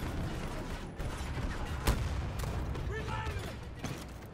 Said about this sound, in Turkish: Baksana roket atıyorum